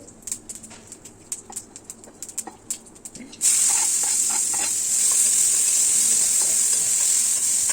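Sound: onion frying in oil with mustard seeds and asafoetida

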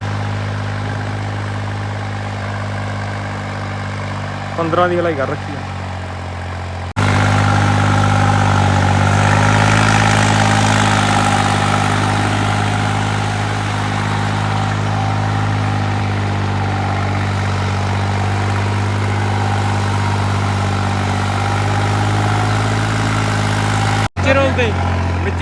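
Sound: New Holland 3630 tractor engine running

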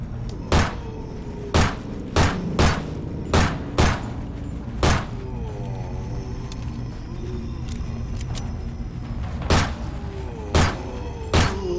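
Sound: gunfire in a video game

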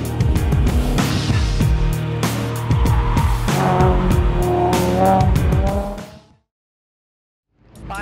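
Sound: 2011 Mustang race car driving at Texas Motor Speedway

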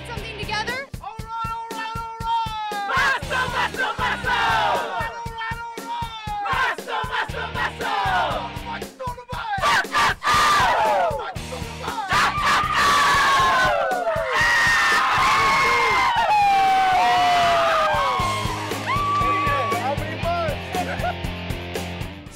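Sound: crowd cheering for Zeke

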